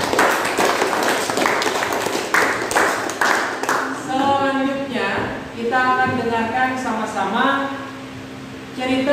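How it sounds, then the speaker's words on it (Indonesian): Classroom pupils clap for a group's story, a burst of dense, close applause in the first half, then a voice talks over fading claps. "Jadi kita beri tepuk tangan untuk cerita kelompok."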